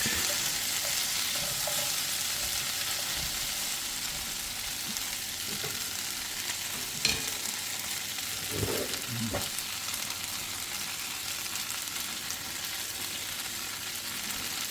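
Green beans are tossed in a hot pan to coat, giving a steady broadband sizzle with a few soft scrapes and clinks of stirring, close and continuous with no talk.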